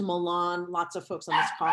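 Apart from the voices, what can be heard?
dog barking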